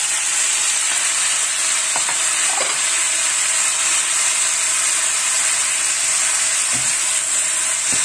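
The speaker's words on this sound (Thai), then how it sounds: "ผัดผักรวมกระเทียมพี่น้องเขาผัดกระเทียมหอมแล้วก็ใส่ผักลงไปเลยจ้า" Garlic and mixed vegetables are stir-fried in a pan, giving a loud, steady sizzle and hiss with a few faint scraping knocks from the stirring.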